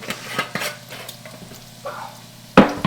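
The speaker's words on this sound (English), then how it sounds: "we're just gonna cook the flour down" Flour cooking down in a pan for gravy, quiet scraping stir strokes and a faint sizzle, ending with a sharp clank of a utensil against the pan.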